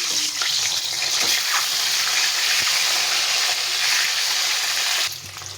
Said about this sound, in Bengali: এই তেলে আমি ডিমগুলো ভেজে নেব। এগুলো হাঁসের ডিম।